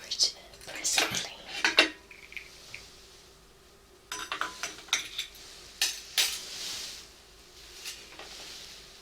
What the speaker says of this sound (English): I'll pour it presently.